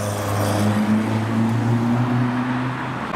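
A Nissan drives past at a car show, its steady engine drone low and fairly close, holding level for a few seconds with no talk over it.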